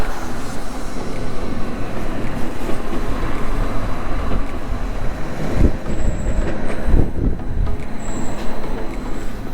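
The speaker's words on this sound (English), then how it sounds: "Over a high dry stone wall that stabilizes the slippery terrain, our train once again makes the steep descent to Bruzio." Bernina Express train on the Rhaetian Railway making a steep mountain descent, heard as a loud continuous rumble and roar of wheels on rails with brief high squeals and a couple of heavier clunks, with no talk.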